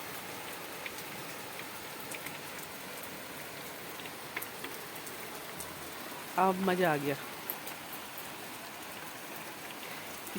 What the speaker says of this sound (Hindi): मेरे बोलते बोलते ही बारिश आ गई,